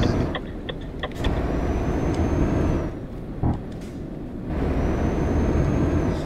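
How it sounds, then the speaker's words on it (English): Van crossing small speed bumps in Euro Truck Simulator 2, a steady engine drone with a few sharp scraping clicks early on and another brief knock midway. "You can hear the little scrape when the car, when the van goes over the those little speed bump things."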